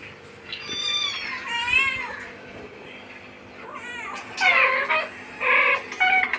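A cat meows several times up close, in short rising and falling cries separated by brief quiet gaps.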